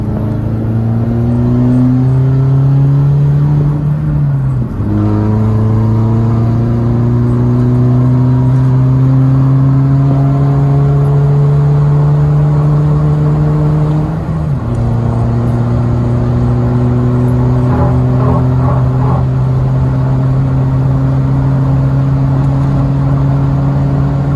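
A remapped Chevrolet with a 6-speed gearbox pulls hard in third gear, its engine note climbing steadily and loudly from inside the cabin, dipping briefly twice at gear changes before rising again.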